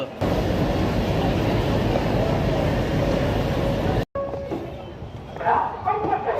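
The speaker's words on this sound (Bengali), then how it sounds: "ফাইনালি আমাদের ট্রেন ছেড়ে দিল হলো হাওড়া স্টেশন থেকে" Steady rumble of a Kumbh Mela special train departing Howrah station for Prayagraj, under way for several seconds, then an abrupt cut to quieter interior noise with a voice talking.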